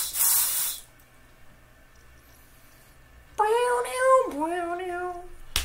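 Glade Hawaiian Breeze air freshener sprayed in one short, close, loud aerosol hiss at the start, followed by a pause and then a high, wavering, cry-like sound.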